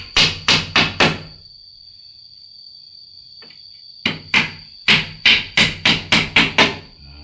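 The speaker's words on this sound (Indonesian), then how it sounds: "Proses pemakuan untuk pengasih paku. Pakunya cilik aja." Small nails hammered into wood while building a bedroom: two bursts of sharp, evenly spaced blows, four strikes then a pause with faint noise, then a run of about nine strikes, close and loud.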